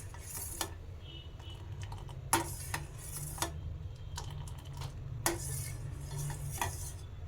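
Boiled milk for an almond milkshake stirred in a pot, a spoon clinking sharply against the metal rim in irregular taps over a low steady hum, close and otherwise quiet.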